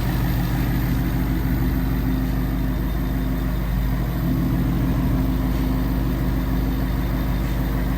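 A 2020 Ford Mustang GT Premium with the Coyote 5.0L V8 and 10-speed automatic idles steadily, giving a loud, even, low rumble that continues without change throughout.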